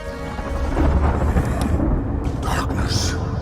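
Rumbling thunder in a snowy storm in the video game The Banner Saga 2, a loud continuous low roar with rain-like hiss throughout, overlaid by game sound effects and a narrating voice.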